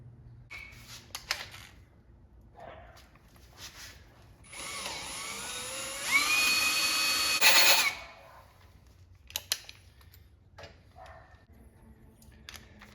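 A power drill with a 1/4 inch bit bores a hole in a Jeep JLU, whining loudly for about three seconds and rising in pitch as it cuts, with scattered clicks and handling noises before and after.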